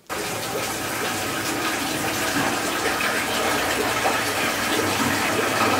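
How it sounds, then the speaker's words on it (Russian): Water from a borehole gushes steadily into a container near a bathhouse, a loud, constant rushing flow that starts abruptly and continues unbroken for several seconds with no voices. "набираем воду из скважины"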